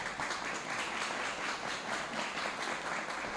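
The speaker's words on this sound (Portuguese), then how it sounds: "merecidas salvas de palmas" An audience at a launch event for a guide and documentary applauds in a steady, dense wash of many clapping hands, heard faint and from a distance.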